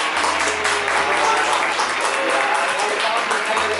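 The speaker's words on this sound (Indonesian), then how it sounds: "Tepuk tangan dong Pendeta Heri." A crowd applauds steadily, with dense, loud clapping that continues throughout without pause.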